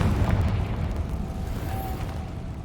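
A Confringo blasting curse detonates in the Hogwarts Legacy video game, a sustained deep rumbling boom with a low roar that holds steady for a few seconds, close and fairly loud.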